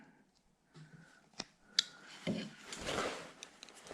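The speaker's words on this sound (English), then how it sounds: "Now I'm going to take a thin blade, come in right here, make a stop cut there, and one right there" A thin blade presses stop cuts into a wooden carving, giving a few sharp close ticks and short scraping, rubbing strokes that build into a denser, louder scrape toward the end, with no talk.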